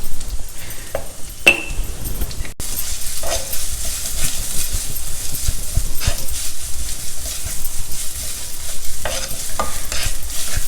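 Onions stir-frying in a pan with salt for a Kovakai sabji, a steady broadband sizzle with scattered utensil scrapes and clinks, close and fairly loud throughout.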